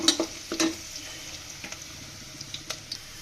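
Spices frying in oil in a pan, a soft, low sizzle broken by a few sharp clinks of stirring near the start and scattered light taps later.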